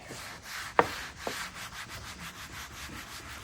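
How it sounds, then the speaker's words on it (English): A boar's hair brush scrubs foam cleaner over the vinyl interior of a '66 Chevy Impala, making a close, steady series of rhythmic brushing rubs with a couple of sharper taps. "We're going to take our trusty boar's hair brush. We're going to just back foam that a little bit and just work it."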